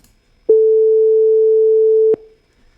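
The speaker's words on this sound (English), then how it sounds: "here is my 440 hertz clean signal, a pure sine tone" A pure 440 Hz sine test tone sounds for about a second and a half, steady, clean and loud, starting and stopping abruptly against silence.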